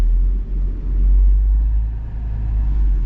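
An Ineos Grenadier crawling off-road uphill in first gear, its engine giving a steady low rumble with a slight swelling and easing. The sound is close and there is no talk.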